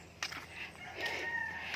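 Chickens clucking and calling faintly outdoors, a few short squawks followed by a longer drawn-out cry, distant and quiet.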